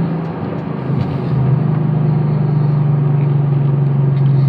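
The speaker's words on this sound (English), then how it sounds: "Let me see what happens if I accelerate a little bit more." Ford Mustang accelerating from inside the car, a low engine drone that swells in loudness and settles into a steady rising hum, with no talk over it.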